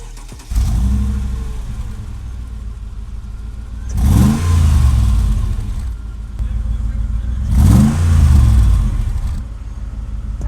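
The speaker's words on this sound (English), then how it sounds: "you guys can hear the Brabus exhaust" A Mercedes G-Wagon with a Brabus performance exhaust rumbles steadily up close, then revs hard twice with deep, throaty exhaust bursts before settling back to idle.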